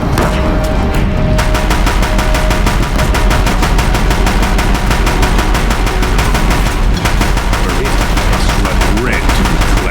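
Deathbringer machine guns blaze in Horizon Zero Dawn, a loud, dense run of rapid automatic fire that hammers on almost without pause for the whole stretch, with heavy low booms underneath.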